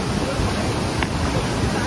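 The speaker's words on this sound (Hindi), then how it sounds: "काफी तेज पानी चल रहा है" Fast, turbulent water pours through a large dam in Shahjahanpur, a steady broadband rush that stays loud and unbroken throughout, with wind buffeting the microphone.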